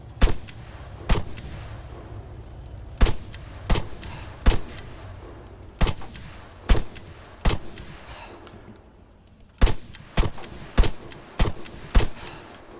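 Gunfire in the Arma 3 military game, a series of sharp, loud single shots, about fourteen cracks, spaced irregularly with short clusters and pauses, over low background rumble.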